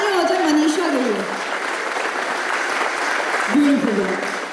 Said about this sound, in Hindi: जोरदार तालियां हो जाए मनीषा के लिए।